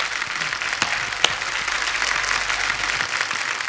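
A studio audience on a television comedy show claps loudly and steadily for contestants, judges and the host, a dense, continuous wash of applause with no voices on top.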